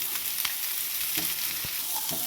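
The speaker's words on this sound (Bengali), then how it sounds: "এবার আমি একটুখানি ভেজে নেবো" Rice flour frying in a wok with dry red chillies and bay leaves, a continuous close sizzle broken by several soft stirring scrapes.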